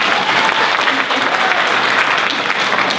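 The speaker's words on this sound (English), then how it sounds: "We'll give him a little clap." A school auditorium audience claps at a National Honor Society induction, a dense, even patter of many hands held at a steady level throughout with no break.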